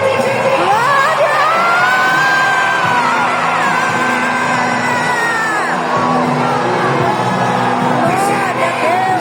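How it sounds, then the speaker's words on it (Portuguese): A Pentecostal Assembleia de Deus congregation in Rio de Janeiro shouting glory to God, a loud, dense crowd roar of overlapping yells and whoops that holds steady throughout. "Dá um grito de glória!"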